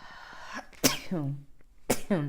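Two sharp, loud sneezes spaced about a second apart, each followed by a short voiced exhale or throat-clearing sound, close to the microphone during a Kundalini yoga session.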